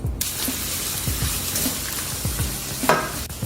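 Olive oil and butter sizzle and crackle in a pan on low-medium heat, a steady close frying hiss with a short clatter near the end.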